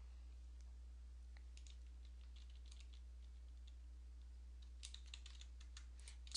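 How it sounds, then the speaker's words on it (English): Keys clatter faintly on a computer keyboard while a heading is typed in Word 2007, a light irregular patter over a low steady hum that grows a little busier toward the end. "I'm going to type in a heading."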